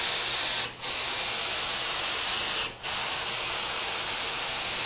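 Ultra Ever Dry coating sprays onto concrete forms in a loud, continuous hiss that stops twice, each time for a fraction of a second, then resumes as the spray passes continue.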